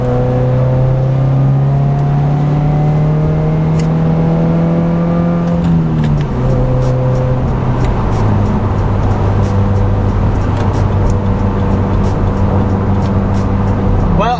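A car tuned with an Accessport accelerates hard on a road, engine rising in pitch through several gear shifts with a dip near six seconds, loud and continuous with faint crackling pops from backfiring during the shifts.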